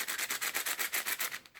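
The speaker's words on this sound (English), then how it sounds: "the outer layers feel kind of clicky and the inner layers feel really scratchy" A scratchy, clicky 5x5 speedcube being turned by hand: about a dozen quick rhythmic rasping turns in close succession, loud and close, fading at the end, with no voices.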